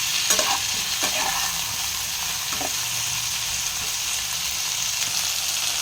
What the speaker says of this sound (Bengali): টমেটোটার সঙ্গে ভালো করে এবারে আবারও ফ্রাই করে নেব।